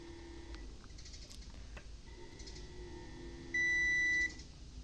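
A multimeter emits a steady electronic beep of about a second while probing a shorted MOSFET in an inverter, preceded by faint clicks and handling sounds against a quiet hum.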